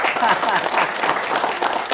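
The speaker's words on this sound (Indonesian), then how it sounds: "Tepuk tangan nih." Audience applause at a high school event, a short burst of many hands clapping at close range, with voices talking over it throughout.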